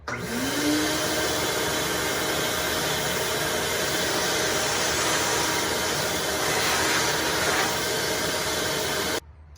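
A shop vacuum sucking up a pile of sawdust in a garage whirs up and roars steadily at close range for several seconds, then cuts off abruptly near the end.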